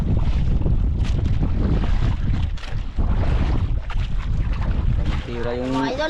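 Two fishing boats' engines hum as they head away across open water amid strong wind buffeting the microphone, with a brief tonal horn-like sound near the end.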